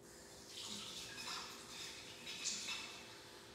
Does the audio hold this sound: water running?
yes